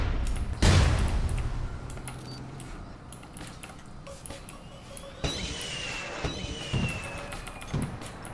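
Gunfire in the online shooter APB Reloaded: one loud, sharp shot near the start, then scattered quieter shots and clicks over a busy game background.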